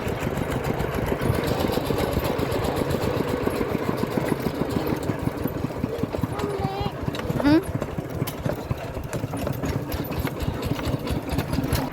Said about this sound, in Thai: ขี่รถไถมาแล้วตอนนี้นะ